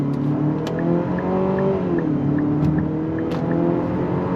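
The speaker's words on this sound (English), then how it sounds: "When you go full out on throttle, the VC turbo engine works great." A 2025 Nissan Murano's VC turbo engine accelerates at full throttle in sport mode, a loud, continuous rising drone heard from inside the cabin with smooth gear shifts from the 9-speed automatic, and no talking.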